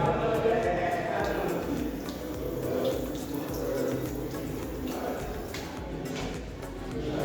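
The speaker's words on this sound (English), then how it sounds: "Then after that, I'm going to open it for water." Water tap turned on for rinsing baking soda while whitening teeth, a soft, continuous splashing flow that runs for several seconds, fairly quiet and close.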